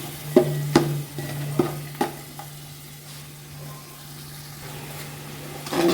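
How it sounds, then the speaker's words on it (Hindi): Masala of chili powder and salt fries in a pot with a soft, steady sizzle, broken early by a few sharp spoon clinks and scrapes, fairly close and without talk. "5 मिनट भून लें इसे, इसका मसाला अच्छे से तैयार हो जाए।"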